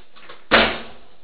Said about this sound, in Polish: Otwieraj drzwi.